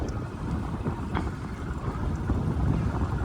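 A Carolina Skiff 16 motor idling while underway on open water, a low rumbling drone mixed with heavy wind buffeting the microphone, continuous and fairly faint, with no talk.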